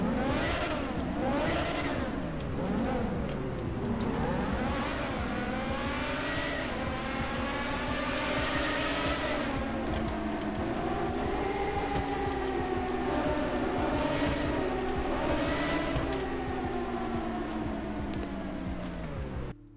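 A modded car engine in GTA 5 revs hard inside a tunnel, its pitch climbing and falling through repeated gear shifts, loud and close with a booming, continuous drone and no talk.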